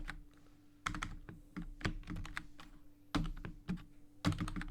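Keys clack on a computer keyboard in short irregular bursts, crisp and close, with brief pauses between runs of typing.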